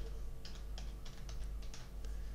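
Someone types a new drug name on a computer keyboard: a quick run of light, crisp keystrokes in an uneven rhythm, close by over a steady low hum, with no talking.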